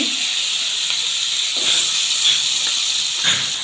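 Vegetables, including Malabar spinach cut from a rooftop garden, sizzling and hissing in hot oil just after hilsa fish heads were fried, a steady loud bright crackle throughout with no talking.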